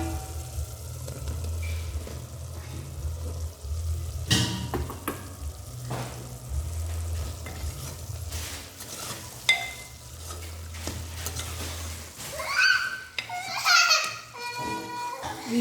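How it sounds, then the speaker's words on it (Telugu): Mushroom curry gravy cooks in a pan for mushroom biryani, a low bubbling simmer under intermittent stirring scrapes and clinks of a utensil, with brief voices in the background. "ఇంకొక 1 నిమిషం పాటు ఈ కూర అనేది మనం మగ్గించుకుందాం"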